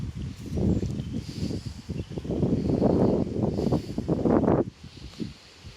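Wind gusting outdoors during a walk with a German Shepherd, a rough, rumbling buffeting that swells and eases unevenly against the microphone for several seconds before dropping off.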